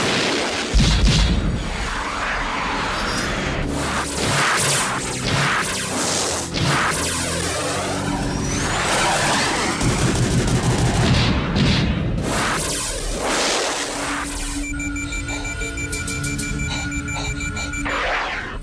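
Loud, dense battle din from an action-thriller air combat, with booming impacts, whooshing passes, crashes and a wailing alarm-like tone running nearly continuously, no voices.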